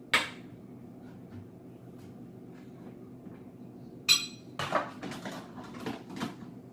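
Dishes being loaded into a dishwasher, one near clink at the start, then quiet, then a cluster of ceramic and metal clatter and knocks toward the end.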